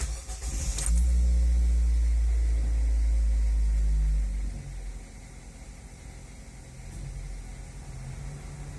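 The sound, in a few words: car air conditioner running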